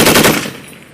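A short, loud burst of M240 medium machine gun live fire on a Marine range at Camp Hansen, Okinawa, with rapid rounds that fade into echo within a second.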